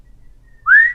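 A single short person's whistle, rising in pitch, sounds out near the end of an otherwise quiet moment; it is brief but clear and loud against the low background hum.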